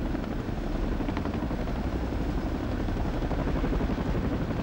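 Boeing CH-47 Chinook tandem-rotor helicopters flying at a 1981 RAAF Diamond Jubilee event, a loud, steady rotor and engine roar that fills the whole stretch with no talk over it.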